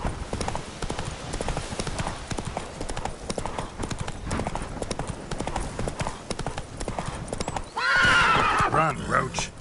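Roach the horse in The Witcher 3 clip-clops at a steady rhythm throughout, then gives a loud neighing whinny near the end; a voice talks over the hooves.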